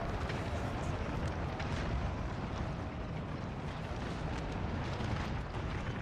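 Artillery guns firing in a large Napoleon: Total War battle with huge unit sizes, a dense, continuous rumble of booms and blasts rolling together at a distance without pause.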